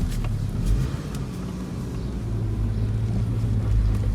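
A car drives along during its MOT test, a loud, close, steady engine rumble and road drone that holds throughout with no letup.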